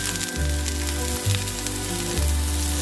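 Sliced onions and potato cubes frying in a pan for prawn biryani, a steady close sizzle throughout with a few low stirring bumps, no speech.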